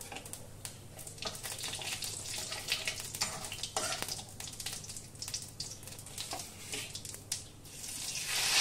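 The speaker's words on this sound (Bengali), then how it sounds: "পেঁয়াজ আমি ভালো করে প্রথমে ভেজে নেব।" Grated onion frying in oil with bay leaf and cumin for a Bengali fish curry, a steady close crackling sizzle with bursts of spitting that swell near the end.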